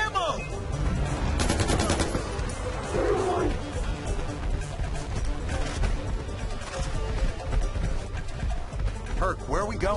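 Automatic gunfire in the Far Cry 4 video game while driving, rapid loud bursts mixed with engine and crash noise, with people talking over the shooting.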